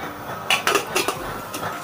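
A metal cooking pot half filled with water, on a used-oil burner stove, clanks and rattles a few times in quick succession, close and sharp, with short pauses between the knocks.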